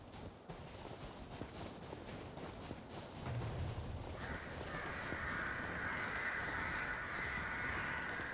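Crows cawing in the video game Lies of P, harsh calls against a dark ambient backdrop with scattered footstep-like thuds, followed by a sustained tonal drone that rises and holds to the end.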